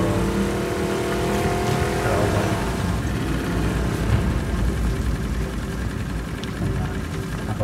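Turbocharged car engine revving in The Last of Us Part II, a steady loud drone with rising engine tones early on, continuous throughout with no talk.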